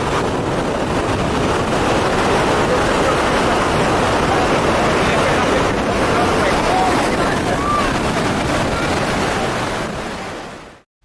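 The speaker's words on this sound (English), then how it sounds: "Your final view of the falls will be the closest you can get, the noisiest you can get, and the wettest you can get." Thunderous, continuous roar of Iguazu Falls heard from its closest, wettest viewpoint, a dense wall of crashing water that stays loud and steady throughout before cutting off at the end.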